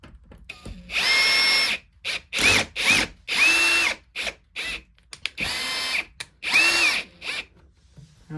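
Power drill driving screws into a Dirt Devil Endura Express vacuum: a series of loud, near whirring bursts that stop and start irregularly, some rising in pitch, with short quiet gaps between them.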